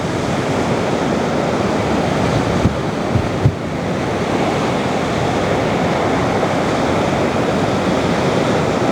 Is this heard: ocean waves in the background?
yes